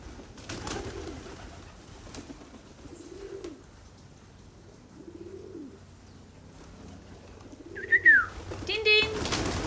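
Pigeons coo in soft, repeated low phrases while being fed outdoors alongside other birds and crows, with a brief higher call and fluttering near the end.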